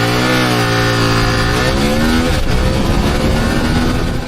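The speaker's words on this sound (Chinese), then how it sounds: "下面我们进行100公里加速测试。" A 2026 CFMOTO 1000MT-X motorcycle in standard mode with traction control off accelerates hard toward 100 km/h. The loud, close engine note rises steeply, drops briefly at a gear change, then climbs again.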